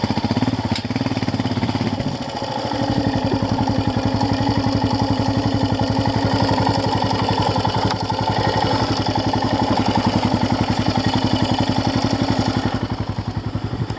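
A Royal Enfield Himalayan motorcycle engine on a muddy UK green lane trail, ridden on gentle throttle, thumps steadily and loudly up close with an even, rapid pulse that hardly varies throughout.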